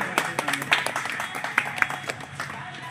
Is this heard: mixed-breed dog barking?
no